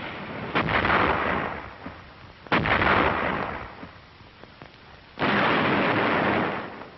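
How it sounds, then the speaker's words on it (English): An artillery barrage in wartime combat footage: three heavy, booming bursts a couple of seconds apart, each with a long rumbling decay, loud and close, with no voices. "the infantry watched the smoke and bursts of the barrage"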